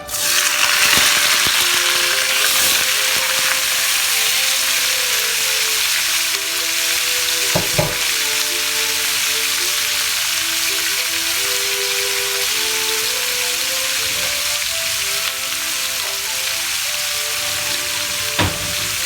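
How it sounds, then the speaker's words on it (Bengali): Shrimp frying in hot oil in a pan, a steady dense sizzle that holds at an even level throughout, with a few faint clinks of stirring and no voices. "তেলটা গরম হয়ে গেলে এখন আমি দিয়ে দেব চিংড়ি মাছগুলো"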